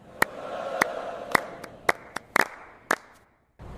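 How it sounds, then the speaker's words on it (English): Hands clapping in roughly eight sharp, isolated claps at an uneven pace, close and dry against a quiet background, followed by a short silence at the end. "I clap my hands after the concert."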